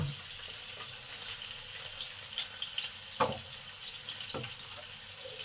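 Fish fries in a pan on the stove with a steady, moderate sizzling hiss, broken by a few soft pops and clicks. There is no talking.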